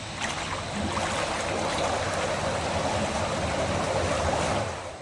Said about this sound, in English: We have just initiated a backwash.